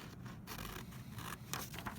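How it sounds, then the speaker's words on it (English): Scissors cut along the lines of a paper cube template, a faint, close series of rasping snips and paper scraping with no talking. "you're going to take your scissors, you're going to cut along the solid lines only"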